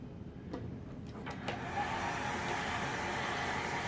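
Heat dryer blowing a steady broadband whoosh over a freshly screen-printed gray kitchen towel on a board, rising after a few soft handling knocks and then holding at an even, close level.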